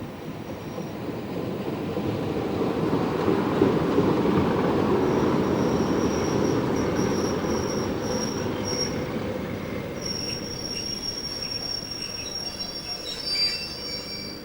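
A British Rail Class 101 diesel multiple unit runs along the Paisley Canal line, its wheels squealing sharply against the rails over a steady rolling rumble, close by and sustained throughout.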